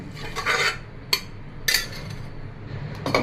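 Boiled chickpeas being mashed into sweet potato in a bowl for sweet potato chaat, heard as a few short scraping clinks of a utensil against the bowl, close by and separated by pauses.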